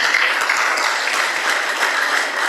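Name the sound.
audience applause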